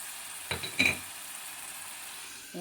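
Minced keema with spice paste sizzles steadily in a covered pan, a soft constant frying hiss close by, broken by a couple of brief clinks or stirring sounds near the start, with no talk.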